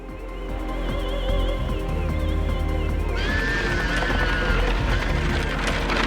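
A horse pulling a carriage in Parasite Eve whinnies and its hooves clatter in steady galloping rhythm, with game music and effects layered loudly over the continuous running sound.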